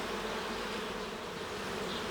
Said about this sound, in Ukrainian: Тут бжілки накинулися на перетинки, де я їх розірвав і відкрився мед.